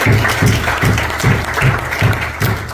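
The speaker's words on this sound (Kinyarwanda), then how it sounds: "mwahaye Uwiteka amashyi mwana" A church congregation claps together during a Sunday school worship service, the rhythmic applause loud and close, repeating in steady bursts throughout.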